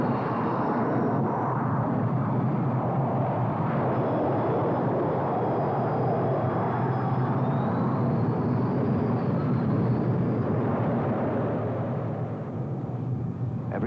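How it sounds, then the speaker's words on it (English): Grumman A-6 Intruder jets launching from an aircraft carrier, a loud continuous roar of jet engines filling the scene with a broad rushing drone that fades slightly at the end. "From a standing start, 20 tons of aircraft reach flying speed in 2 seconds flat."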